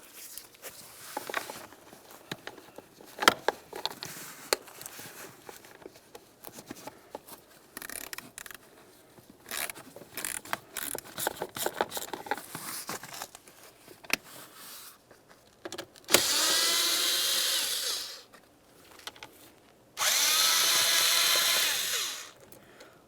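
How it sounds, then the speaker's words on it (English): A Dodge Ram 2500 blower motor's screws are worked loose with an 8mm socket on a swivel, giving faint clicks and handling noises, followed by two loud, sustained bursts of a power driver spinning. "For this, I'll just be using an 8mm with a swivel."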